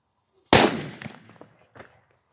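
A Dumbum friction-lit firecracker rated at 120 decibels bursts with one sharp, loud bang, followed by a rolling echo and a few fainter reflections fading over about a second and a half.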